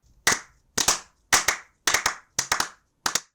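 Cartoon sound effect of buttocks clapping: six sharp, loud slapping bursts in an uneven rhythm, some single and some doubled or tripled, separated by short silences.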